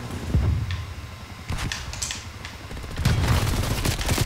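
Gunfire rattles in the video game Call of Duty Cold War, with bursts of loud, rapid shots and sharp impacts layered over a dense in-game din that swells near the end.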